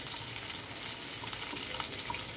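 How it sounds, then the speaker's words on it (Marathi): Onion goes into a pan of frying garlic and chillies for methi bhaji, giving a continuous soft, even sizzle, quiet and close, with no speech. "लसूण घातला, आता कांदा घालून घ्यायचा."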